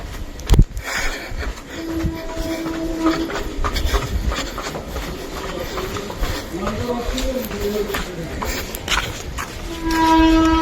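Train at a small local railway station in a village area, a steady rumble and rattle of passing cars with brief horn-like tones, heard near and fairly loud with some voices mixed in.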